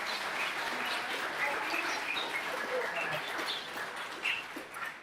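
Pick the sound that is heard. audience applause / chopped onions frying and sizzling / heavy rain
audience applause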